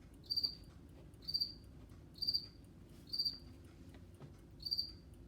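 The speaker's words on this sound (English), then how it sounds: "That is an extremely loud cricket right here in my living room." Loud cricket chirping indoors in a living room, five sharp bursts repeating about once a second over a steady low hum, no voices.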